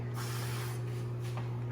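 Cooking spray is sprayed onto a pan in a short hissing burst over a steady low kitchen hum, with a small knock at the end.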